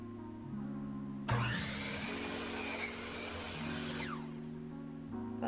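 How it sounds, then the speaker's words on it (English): A miter saw cuts through a wood base for a house number sign, a loud sustained whine of about three seconds that starts abruptly and winds down, over a steady background hum. "I need to cut this extra piece sticking out. So again, I used my miter saw"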